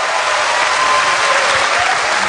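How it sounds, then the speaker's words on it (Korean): A studio audience at a televised singing competition applauds loudly and steadily, a dense wash of clapping that holds evenly throughout with no talk over it. "네 분께 다시 한번 큰 박수 부탁드립니다"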